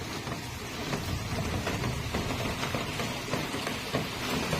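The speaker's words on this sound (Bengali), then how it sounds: "এই যে বৃষ্টি হচ্ছে তাই দেখাচ্ছি, তাই দেখো বৃষ্টি আরম্ভ হয়ে গেল।" Steady rain pours down, a dense continuous patter on surfaces with no break, fairly loud and close.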